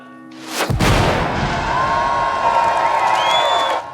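A sharp, loud boom of cannon fire bursts out, followed by a sustained roar of noise with a thin whistling tone rising near the end.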